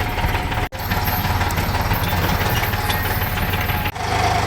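A tractor engine runs in a farm field during wheat sowing with fertilizer, a steady low rumbling idle with a persistent throb and two brief dips.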